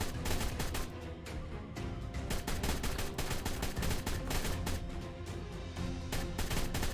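Sustained rapid gunfire from the survival video game ARK, a loud steady rattle of shots with brief pauses, and no one talking.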